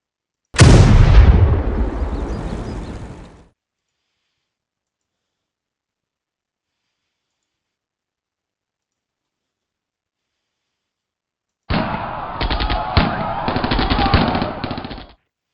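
Close-assault combat in the Panzer Campaigns Budapest 45 war game: a loud explosive blast decays over about three seconds, then after long silence a rapid rattling burst of gunfire lasts several seconds.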